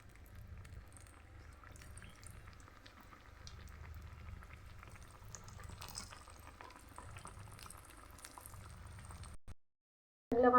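Lentil pakan pitha frying in hot oil, a steady bubbling sizzle with fine crackles, close and fairly quiet, cutting off abruptly near the end.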